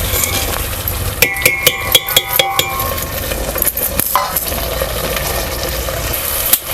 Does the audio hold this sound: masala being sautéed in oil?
yes